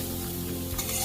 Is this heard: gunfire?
no